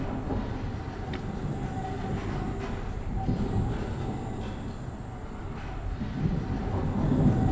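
A tram in the video game Abiotic Factor rumbles past as a steady, close rolling drone of wheels on rails, rising slightly toward the end, with no talk.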